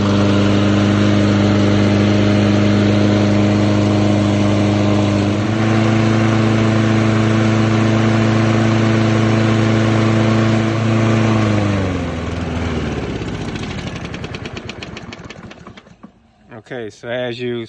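A Toro walk-behind lawn mower engine runs steadily and loud, then its pitch sags and it sputters out and dies near the end, leaving brief rattling.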